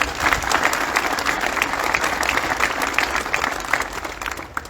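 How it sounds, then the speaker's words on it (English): Crowd applause at a supermarket grand opening and ribbon-cutting ceremony, with many people clapping steadily and fairly loudly for nearly five seconds, unbroken by speech. "let's give them another round of applause"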